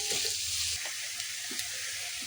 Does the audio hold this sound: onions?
yes